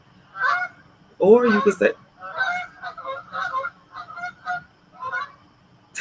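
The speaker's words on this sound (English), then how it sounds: "you might hear some ducks and some whatever else that was" Geese or ducks honking near a body of water outdoors, a series of loud, close calls in bursts, with a person talking over and between them.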